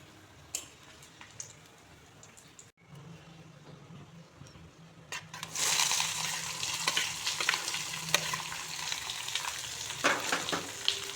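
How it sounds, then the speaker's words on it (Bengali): Onions frying in oil with bay leaves, cinnamon sticks and cardamom for a mushroom curry, a soft sizzle that swells into a loud, steady crackle halfway through, with occasional spoon scrapes. "পেঁয়াজগুলো লাল লাল করে ভেজে নেব"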